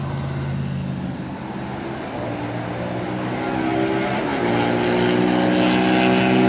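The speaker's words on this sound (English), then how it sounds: "That's a loud car." A loud car passes on Highway 18 near Junction City, a steady broadband roar that swells toward the end, with no talk over it.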